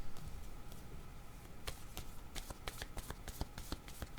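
A deck of picture cards is shuffled by hand, a soft run of riffling gives way to a series of crisp, close flicking snaps, faint and alone without talk.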